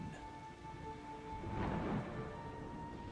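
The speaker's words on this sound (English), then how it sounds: "The rain pouring from the heavens caused a terrible flood" Heavy summer rain pours steadily while thunder from a hurricane rolls and swells in the middle. A faint tonal hum sits underneath the storm.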